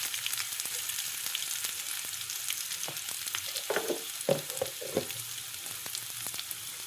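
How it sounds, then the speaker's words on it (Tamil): Onion, green chili and curry leaves fry in a pan for a Tamil poori masala, a steady close sizzle broken by stirring scrapes and a few louder clattering knocks. "இப்போ வந்து பார்த்திங்கன்னா நம்ம வெங்காயம், பச்சை மிளகா, கருவேப்பிலையெல்லாம் போட்டு தாளித்து விட்டாச்சு."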